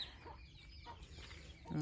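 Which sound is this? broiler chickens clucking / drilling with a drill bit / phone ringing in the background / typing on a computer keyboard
broiler chickens clucking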